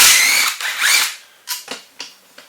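A power tool removing bolts from a Suzuki Samurai transmission: a loud whirring burst up front, then several short, sharp ratcheting zips in quick succession, close and alone.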